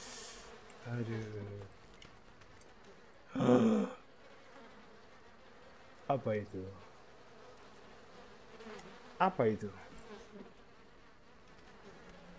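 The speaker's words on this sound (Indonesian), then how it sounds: "Iya, banyak mereka lalat guys." Flies buzzing in the video game Outlast 2: a steady, close insect drone lasting throughout, with a few short exclamations from a voice over it.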